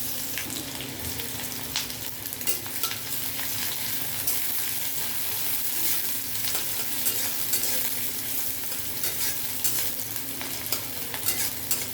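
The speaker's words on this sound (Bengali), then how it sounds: "আমি এবার এর মধ্যে কুচি করে রাখা পেঁয়াজটা দিয়ে দেব।" Chopped onion drops into hot oil in a wok (kadai), giving a loud, continuous sizzle and crackle with occasional stirring scrapes, close up and steady throughout, with no talking.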